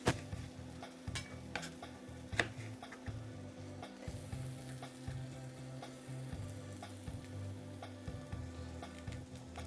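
Sweet peppers fry in an oiled pan with a steady, close sizzle, a few sharp utensil clacks and stirring scrapes over the hiss; no one talks.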